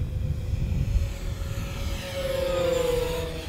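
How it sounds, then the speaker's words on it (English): An E-Flite Twin Timber 1.6m dual-motor RC plane makes a full-throttle pass. Over rumbling wind, a thin electric motor whine rises and swells, growing loudest near the end. "So here we go, full throttle pass again."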